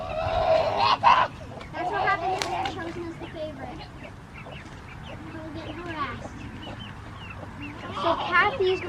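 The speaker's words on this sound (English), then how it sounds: "Poor chicken." Backyard chickens cluck and squawk in bursts close by, with brief talk woven between the calls.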